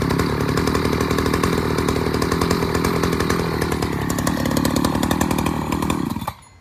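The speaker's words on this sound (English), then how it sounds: "I can get nice and comfortable and start the chainsaw." An ECHO Timber Wolf CS-590 chainsaw runs loud and close, its engine revving steadily with rising pitch before cutting off abruptly near the end.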